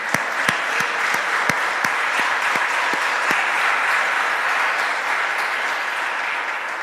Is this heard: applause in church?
yes